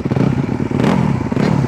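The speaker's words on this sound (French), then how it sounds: "Je vais passer ma moto de cross." A motocross bike engine runs close by with a throbbing, pulsing mechanical drone and some clattering, loud and steady throughout with no talk.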